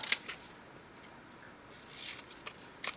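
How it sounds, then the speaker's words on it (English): Scissors cutting out paper pieces for a junk journal, a few quiet crisp snips at the start and near the end with soft paper rustle in a quiet room. "let's go ahead and cut these out"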